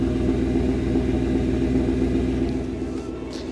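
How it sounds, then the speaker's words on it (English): A 2025 Ford F150 Lobo pickup with a Coyote V8 engine idles and runs nearby, a steady loud low rumble with a throbbing pulse that eases slightly toward the end, with no talk. "Let's hop out and listen to this engine. It's a Coyote engine."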